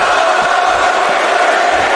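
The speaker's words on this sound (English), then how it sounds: "And the crowd chanting his name" Video game arena crowd in WWE 2K25 chanting a wrestler's name during a Raw episode, a loud continuous roar of massed voices filling the whole two seconds.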